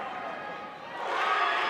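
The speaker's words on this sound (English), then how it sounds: "And this crowd is very loud in here tonight." Loud, dense crowd roar fills a high school basketball gym during a York High vs Central York game, swelling steadily louder toward the end with mixed cheering and shouting voices.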